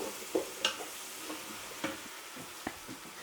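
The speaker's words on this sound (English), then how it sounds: "I'll also add some chilies and my celery, carrots, and mushrooms. And just let that saute." Chilies, celery, carrots and mushrooms sautéing in a pan, a soft steady sizzle with a few sharp stirring clicks and scrapes of a utensil against the pan, moderately close and quiet.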